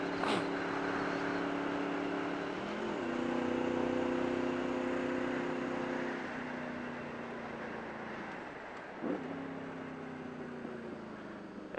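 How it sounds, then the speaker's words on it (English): Steady engine hum of road traffic outdoors, with tonal engine notes that shift pitch as vehicles pass near a roundabout, continuous and moderately loud with no talk. "there's a lot of traffic out here"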